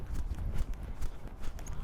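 A horse trots through a dressage exercise, its hooves striking in a steady, close clip-clop rhythm on an arena surface with no talk over it.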